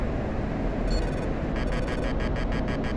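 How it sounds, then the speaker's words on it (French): In an F-16 flight sim video game, an AIM-9X missile locks onto its target by infrared: a high growling tone cuts in briefly, then returns as rapid pulsing beeps, under heavy cockpit wind noise. "ce bruit au cas où, c'est le bruit du AIM-9X qui se lock sur sa cible en thermique"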